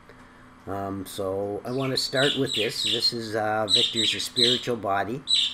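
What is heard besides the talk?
pet blackbird call and budgie squawking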